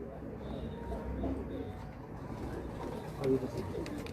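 Soft, low cooing of pigeons repeats throughout, with faint background chatter and a brief brighter bird call near the end.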